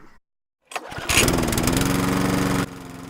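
A push lawn mower engine pulls over and catches after a brief silence, then runs at a loud, steady close-up idle before dropping to a lower rumble near the end.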